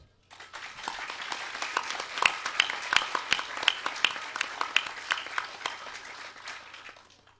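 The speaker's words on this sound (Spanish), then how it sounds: "quería pedirles un fuerte aplauso para él" Audience applause at an urban graphics talk, a few seconds of sharp, distinct claps from a modest crowd that builds quickly, holds steady and then tapers off.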